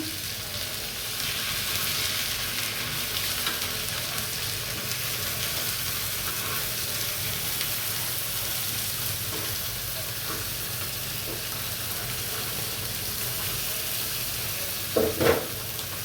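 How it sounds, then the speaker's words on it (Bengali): Bailla fish fries in hot oil in a pan, giving a steady, even sizzle that holds at an even level throughout. A short clatter of a utensil comes near the end, with no one speaking. "মাছটি এনে হালকা ভাজা দেব।"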